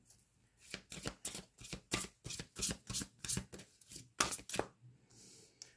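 Tarot cards being shuffled by hand, a quick run of papery riffles and slaps in close rhythmic bursts, then a brief pause and a soft rustle as a card is drawn, no talk.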